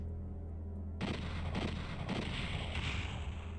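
Gunfire and barrels blowing up in PSX Doom: after a second of low hum, a loud burst of shots and blasts erupts and keeps rumbling and crackling densely to the end.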